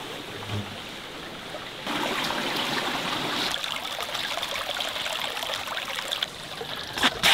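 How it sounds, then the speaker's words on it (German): Stream water trickles and gurgles steadily nearby as water bottles are refilled, a continuous close rushing that grows louder partway through, with faint handling noises near the end. "wir füllen jetzt hier nochmal ein wenig Wasser nach."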